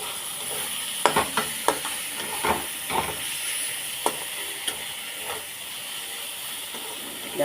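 Dheki shak greens frying in a little oil in a pan, with a steady sizzling hiss and repeated sharp scrapes and clinks of stirring, close and alone with no talking.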